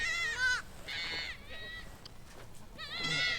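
Baby goats and their mother bleating in a pasture, several loud, wavering high cries in quick bursts, close by, with faint background noise between calls.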